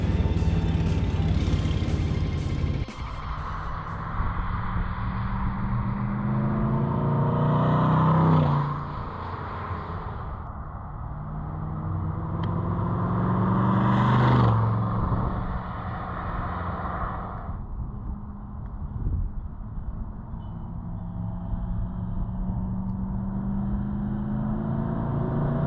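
A Chevrolet Corvette L36 convertible drives along a street, its engine a steady low rumble that swells in two clear revving pushes through the gears before settling back to a quieter cruise, with wind and road noise throughout.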